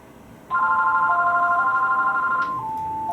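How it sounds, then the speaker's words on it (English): A telephone rings with a steady electronic trill lasting a few seconds, loud and close, over a quiet hum with no talking. "I want that phone to stop ringing."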